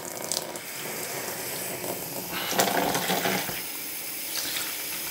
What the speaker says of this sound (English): let's put the water on. This water does come out a bit fierce.